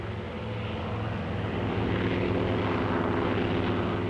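WWII warplanes returning from a mission, their propeller engines making a loud, continuous droning roar that holds steady and swells slightly. No speech.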